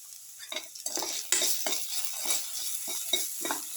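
A spoon stirs salt into a beetroot, potato and yogurt dish, making soft, repeated scraping and clinking strokes against the bowl in an uneven rhythm, close by, with no voices.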